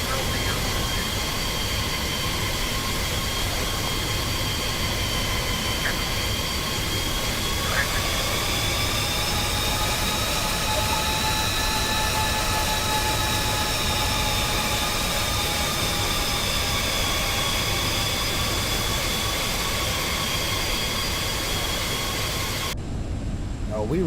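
Idling jet engines of a Boeing 767 freighter in X-Plane 12, a steady, even roar with a sustained whine whose pitch bends gently upward and back, constant in loudness throughout.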